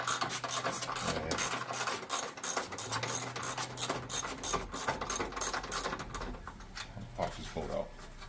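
A ratchet clicks steadily as it backs a bolt out of a 2004–2008 Grand Prix headlight assembly, close and fairly loud, with brief breaks and a quieter mechanical rattle at the end.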